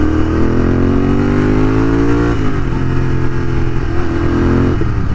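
Modified Royal Enfield GT650 motorcycle riding at night, its engine loud and close with a rising, revving drone that drops in pitch at a gear change, then holds a steady rumble.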